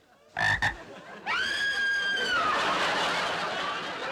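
Frogs give a brief double croak, then a long, bright warbling call that fades into a steady noisy bed, moderately close.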